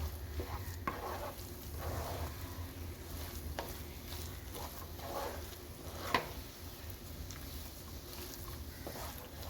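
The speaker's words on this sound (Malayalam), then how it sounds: "നട്ട്സും ചേർത്ത് കൊടുത്ത് നല്ലതുപോലെ മിക്സ് ചെയ്യുക" Beetroot and rava laddu mixture with nuts being stirred in a pan, a steady soft scraping and shuffling texture with faint sizzle throughout and one sharper knock midway.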